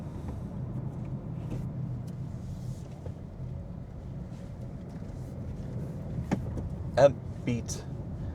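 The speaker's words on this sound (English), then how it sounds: "A bit of city driving, and we park." A 2025 Nissan Qashqai with a 140 hp engine and manual gearbox drives through city streets, giving a steady low cabin rumble with a few faint clicks near the end.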